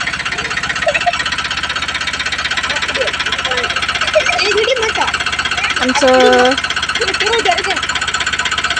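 A tractor engine runs with a steady, loud, rapid knocking chug throughout, while people talk over it close by.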